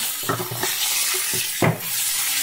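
Spices being sautéed with cauliflower, potato, tomato and onion in a pan: a loud, continuous sizzle with bursts of stirring and scraping, close up and without talk.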